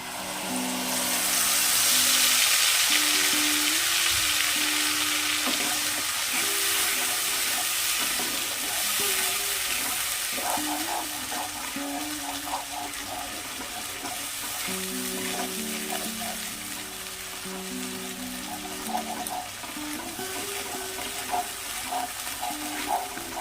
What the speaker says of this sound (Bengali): আমাদের পেস্ট করে রাখা মশলাটা ঢেলে দেবো